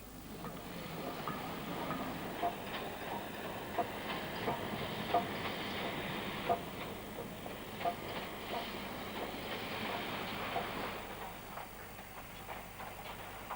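An LMS 0-6-0 steam locomotive working on a heritage railway, heard as a steady rumbling run with rhythmic wheel clicks on rail joints at regular intervals and a hissing wash throughout, fairly distant and even.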